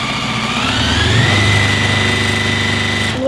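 A sewing machine runs fast without pause, a steady close mechanical whir with a rapid, even needle rhythm, loud and alone, briefly rising in pitch and then stopping abruptly at the end.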